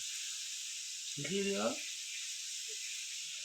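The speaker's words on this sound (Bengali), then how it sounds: "এদিকে মাছের মাথাগুলো ভাজা হচ্ছে" Fish heads fry in a pan with a steady, soft hiss running throughout, briefly overlapped by a short burst of voice.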